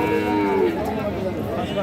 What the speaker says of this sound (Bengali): এটাও একটা ষাঁড় বাছুর।